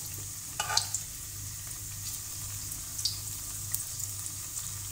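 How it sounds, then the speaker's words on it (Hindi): Bread slices deep fry in oil over a medium flame for a sweet bread dessert, making a soft, continuous hiss with a low steady hum underneath and a few small pops. "ब्रेड को हमें डीप फ्राई करना है, दोनों साइड से बिल्कुल गोल्डन ब्राउन।"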